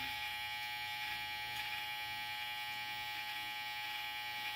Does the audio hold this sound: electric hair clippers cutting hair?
yes